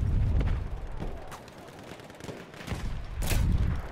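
Grenade launcher fire in the video game Battlefield 1: several heavy, muffled blasts and booms go off at irregular intervals, some close and loud, others more distant, over a rumbling battlefield background.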